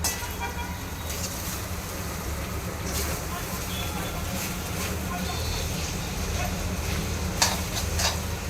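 Rice is stirred into hot oil with fried cumin for jeera rice, a steady sizzle with spoon scrapes against the pot, some background hum and a faint car horn, while people talk quietly nearby.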